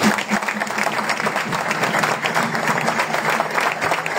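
Church congregation applauding and cheering during a French-language worship service, dense continuous clapping filling the room for the full stretch with crowd voices mixed in.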